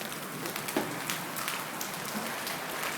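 Hail falling in a thunderstorm, a continuous hissing patter of pellets striking the ground with scattered sharper impacts popping out close by, steady throughout and with no voices.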